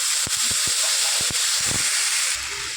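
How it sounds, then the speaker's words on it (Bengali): Ginger-cumin paste and tomato frying in hot oil for a katla fish curry, a loud steady sizzle and hiss with scattered spitting pops and a few utensil knocks. "তেল গরম হয়ে গেছে, 1 চামচ আদা জিরে বাটা"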